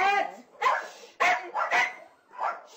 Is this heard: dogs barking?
yes